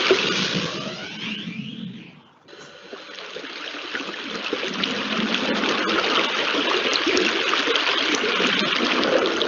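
Surface runoff water rushing through a rainwater-harvesting channel toward a silt trap, a loud, continuous gushing flow that dips briefly early on, then swells back into a broad, steady splashing roar.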